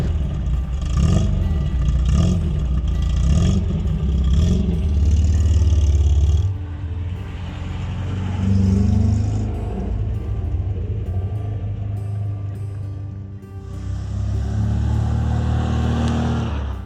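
A 1972 MGB GT's engine and exhaust rumble nearby. It idles with a clattering note, then revs up and settles back down in several loud swells.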